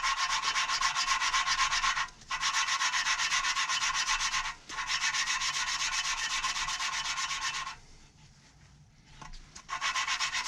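A BMW E36 M50/M52-family engine valve being hand-lapped against its seat with grinding compound gives a steady, close gritty rubbing and grinding, broken by short pauses and a quieter stretch before it resumes.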